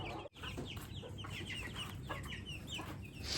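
A hen recovered from illness clucks repeatedly in short, close bursts, with soft rustling and background chatter of other birds around her.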